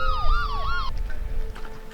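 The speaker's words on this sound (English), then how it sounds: "Ambulance is here." An ambulance siren wails loudly nearby, its pitch sweeping up and down in a repeating yelp before cutting off, with low engine rumble underneath.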